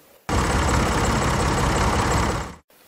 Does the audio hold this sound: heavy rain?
no